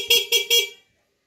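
A motorcycle horn is tested after being repaired: three short, loud honks sound in quick succession close by, then it goes silent.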